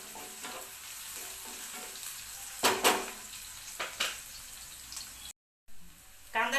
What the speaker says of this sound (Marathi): आता कांदा छान तळून घ्यायचा आहे आपल्याला, म्हणजे परतून घ्यायचा आहे.